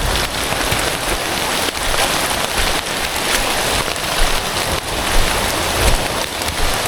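Heavy rain pours steadily on a slippery mountain trail descending Gunung Luhur, a dense, loud, unbroken hiss with no voices.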